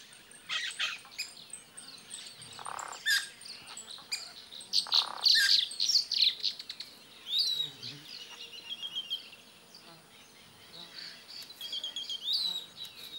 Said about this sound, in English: They are the Xexu, or Japuira, hard-working and flashy birds that add their creative touch to the landscape.